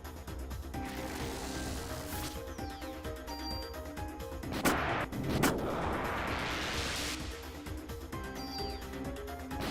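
Minigun fire in the PlayStation game Parasite Eve, a continuous mechanical rattle over steady game music, with a couple of sharp louder bangs near the middle.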